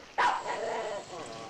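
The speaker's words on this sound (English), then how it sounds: "didn't you hear one bark just then?" A single sharp dog bark rings out close, then fades into a brief lingering tail under a faint, quiet room background.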